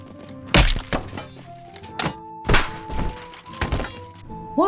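Heavy weapon blows land in a medieval melee fight in the game Half Sword, a series of loud, irregular thunks and cracking impacts, some with a metallic ring, with no voices.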